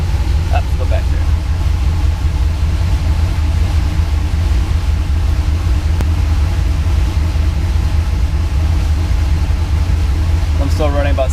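A Pontiac Trans-Am with a big block engine idles at about 600 RPM, a steady, low, tough rumble that holds throughout with a brief clatter near the end.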